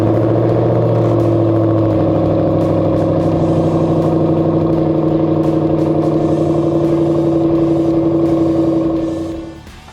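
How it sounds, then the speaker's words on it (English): Steady, loud close-up drone of a Ford Mustang GT S197 V8 on its stock exhaust with H-pipe, holding a throaty idle that rises slightly in pitch and then fades out at the end. "this is how the stock system sounded with the standard H-pipe."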